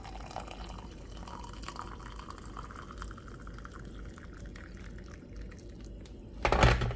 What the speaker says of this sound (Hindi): अब इसके अंदर मैं 1 ग्लास पानी, जो बॉयल्ड पानी होता है, बॉयल्ड वाटर, वो ऐड कर दूँगी।